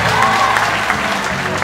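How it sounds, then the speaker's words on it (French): An audience of women at a moderated event applauds, a dense, steady wash of clapping up close with a murmur of voices mixed in, sustained loudly through the short stretch. "si vous êtes fier d'être femme, applaudissez vous-même"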